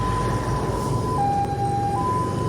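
Police car siren on a road near a fuel station, a steady wailing tone held mid-distance over constant traffic rumble.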